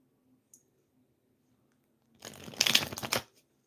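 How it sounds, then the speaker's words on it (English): Cards being shuffled up close in one continuous riffling burst of about a second, after a quiet stretch with a faint tap. "I'm shuffling my cards"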